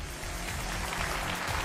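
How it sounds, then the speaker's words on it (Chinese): Studio audience applause on a relationship talk show, a dense, steady wash of clapping for the whole short stretch, loud and full. "掌声有请这一对，有请"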